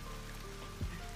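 Steady soft patter of rain falling on a surface in a city in the video game VRChat, continuous and even, with a faint low thump near the end.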